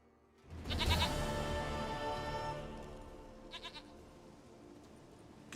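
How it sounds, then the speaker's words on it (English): A goat in the video game Witcher 3: Wild Hunt lets out a long wavering bleat, close and clear, followed by a shorter fainter bleat a few seconds later. "Goat of mine, dearest, sweetest goat."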